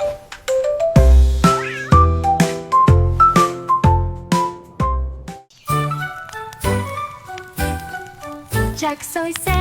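A cat meowing repeatedly within a bright, rhythmic children's nursery rhyme melody, the calls loud and close and woven among plucked musical notes.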